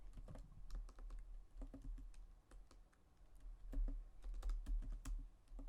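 Keys clatter on a computer keyboard as a command is typed in quick, uneven bursts of close, crisp clicks, with no voices over them.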